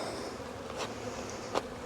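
Honey bees buzz steadily in an opened hive during an inspection, a dense close hum with a couple of brief louder bursts as insects pass near.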